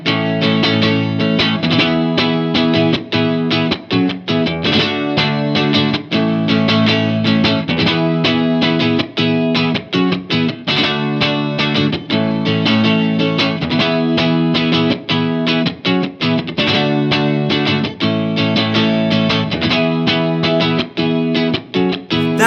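A distorted, effects-laden guitar strums the chorus chord progression of a song continuously in a driving, steady rhythm, loud and close with no voices.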